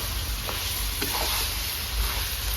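Soybean chunks, papaya and potato being stirred together with spices in a hot pan, a steady low sizzle with faint scraping of the spoon, continuous and close.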